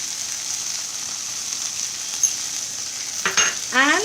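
Okra frying in a pan with cumin powder gives a steady, even sizzle, and near the end a few close spoon scrapes stir through it.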